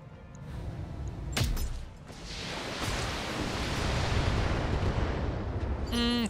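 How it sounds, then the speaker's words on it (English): Weapon fire in a BattleTech video game: a sharp blast, then a long rolling roar of explosions and heavy shots that swells and holds steady, ending with a clattering mechanical burst. "And we drop some shots on that Varga again"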